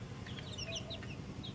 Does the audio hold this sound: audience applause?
no